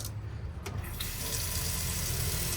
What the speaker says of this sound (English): You can hear the pump in the back.